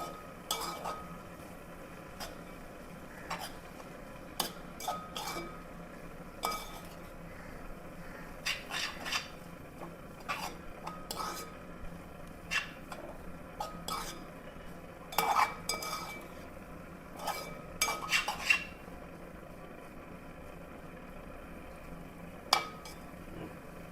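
Spinach is stirred in a pan with intermittent soft scrapes and small clinks of a utensil, quiet and scattered over a low steady background hiss.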